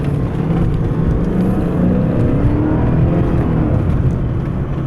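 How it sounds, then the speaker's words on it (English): 1995 Mercedes S500 W140 accelerating hard, a loud, steady engine roar heard from inside the car, building continuously for several seconds. "now I'm just gonna get out here and punch it."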